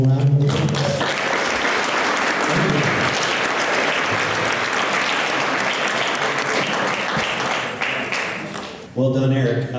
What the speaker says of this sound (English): Our director of golf, Brent, if we can give him a nice warm round of applause.